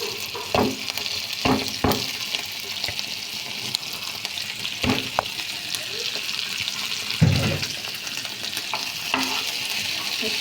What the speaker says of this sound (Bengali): এই যে এখন দিয়ে দিচ্ছি চিংড়ি শুটকিগুলো